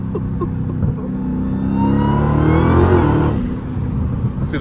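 A 900 hp Dodge Hellcat engine climbs under acceleration, its loud supercharger-style whine rising steadily in pitch over a deep roar before easing off near the end.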